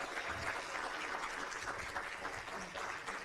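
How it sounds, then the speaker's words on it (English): A church audience clapping for a children's summer Bible school performance, steady dense applause from a crowd, moderately faint and sustained throughout. "One more round of applause for them."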